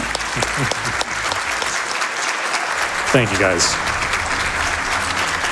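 Audience at Awesome Games Done Quick applauds after a DOOM Eternal speedrun, a sustained loud clatter of clapping with scattered whoops, as someone speaks briefly over it near the end.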